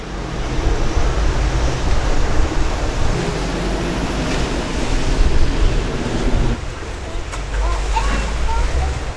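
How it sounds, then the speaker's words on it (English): River waves on the Thames in London slosh and churn against a riverboat hull in a continuous rough wash, mixed with wind buffeting the microphone. "There's actually quite a few big waves here on this river."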